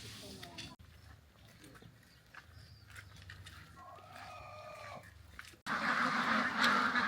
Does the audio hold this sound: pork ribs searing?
no